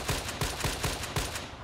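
Rapid gunfire rings out in the online shooter Battlefield Play4Free: a quick run of six or seven loud, punchy shots at a steady, fast rhythm with no speech.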